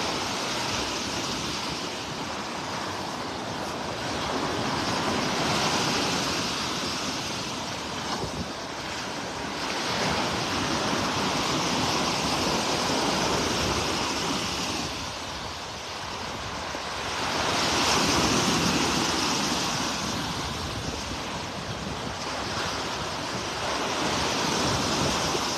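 Surf washes steadily onto Vanderbilt Beach in North Naples, Florida, a broad continuous roar of breaking waves with swelling peaks, mixed with gusty wind buffeting the microphone and no talking.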